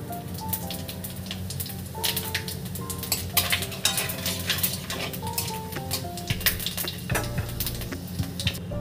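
Panch phoron spices and bay leaves sizzle in hot oil in a kadai, a steady, fairly quiet crackling fry with scattered sharp pops and spits throughout.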